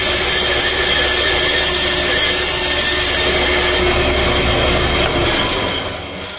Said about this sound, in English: I can slide it over the bandsaw to get in there to cut the